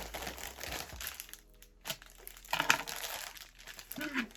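A lost postal parcel bag is torn open and handled, giving bursts of crinkling and rustling plastic with a brief pause in the middle, close by and moderately loud.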